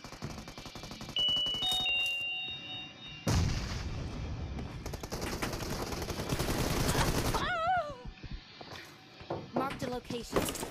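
Shotgun blasts in the BGMI battle royale game crack out in loud, repeated bursts with chiming pickup tones and rattling gunfire, while a player talks over the action.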